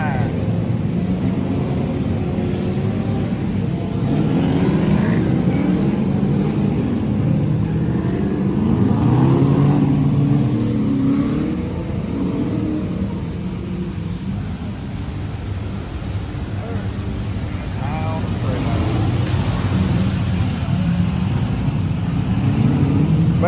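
A raised 1963 car at an NMRA Ford event on a rainy day rumbles with a low, steady engine drone, with people talking nearby over it.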